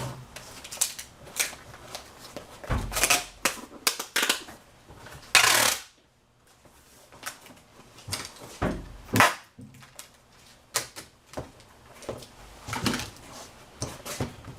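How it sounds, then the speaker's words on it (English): Packing tape is pulled and pressed onto a cardboard shipping box, giving close, uneven bursts of ripping and crinkling, with thumps and a longer loud screech of tape unrolling, and no voices. "I'm going to put a little bit of tape over the address and also at the same time seal the box up"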